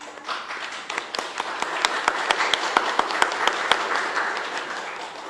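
At a theatre festival announcement in Amazonas, an audience claps steadily and fairly close for several seconds, with sharp individual claps standing out over a dense patter.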